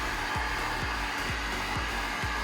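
A heater or blower, used to heat and shape sound-dampening panels, runs as a steady, close, loud airy roar with a faint rhythmic pulsing throughout.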